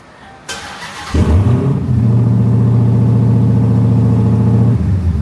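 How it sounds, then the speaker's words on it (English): A Dodge Hellcat V8 engine cranks and catches after a short pause, then settles into a loud, steady, deep rumble held close for several seconds before easing off. "that engine, I've never heard it run"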